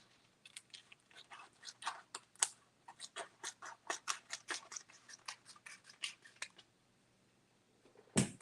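Scissors snip through transfer tape for screen printing in a quick run of crisp, close cuts, irregular but steady, then pause before one last louder snip.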